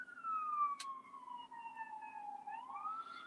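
A wailing emergency siren sound effect sweeps slowly downward then rises again, quiet and clean over a soft low hum, with one brief sharp click near the start.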